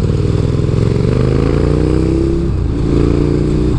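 A KTM Super Duke 1290 R naked motorcycle roars close by, its engine revving with a loud, throaty, rising-and-falling growl throughout.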